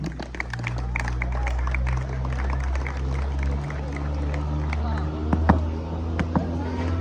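Audience applause for the winners of a football match, steady scattered clapping throughout, fairly close, under a constant low hum and some background voices.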